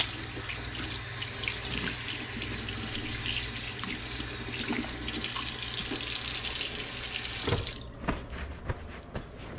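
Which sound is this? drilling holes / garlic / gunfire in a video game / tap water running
tap water running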